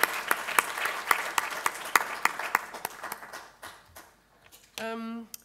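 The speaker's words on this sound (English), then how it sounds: "I would like you to give them a big applause for all the work they've been doing" Audience applause at a sustainability innovation network conference session, a few seconds of clapping that thins out into scattered claps before a voice speaks near the end.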